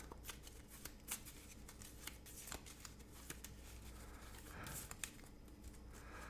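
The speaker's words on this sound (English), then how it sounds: "Shuffle, shuffle, shuffle." Someone shuffles a deck of playing cards during a Marvel Champions card game. The quiet, close riffling and snapping runs for several seconds, with a few sharper flicks scattered through it.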